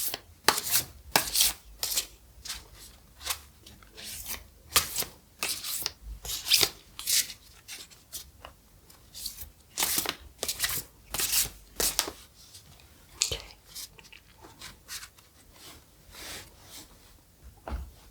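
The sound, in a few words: shuffling a deck of tarot cards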